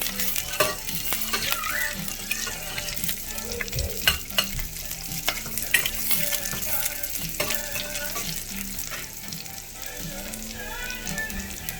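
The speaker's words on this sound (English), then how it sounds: "we're going to throw in pieces of onion. We're gonna let the oil soak in all that nice onion flavor as it's sauteing." Onion pieces sautéing in hot oil, a steady crackling sizzle with frequent stirring and spoon scrapes against the pan, close and continuous throughout.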